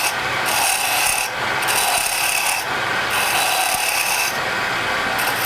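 A wood lathe takes a roughing cut on a honey dipper. The gouge makes a loud, continuous, rasping scrape against the spinning wood, with faint rhythmic dips in the noise.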